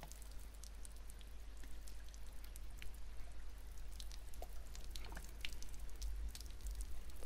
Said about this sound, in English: Apart from the drops and the drips and things, there's a sort of a strange mystical type wind going on in the background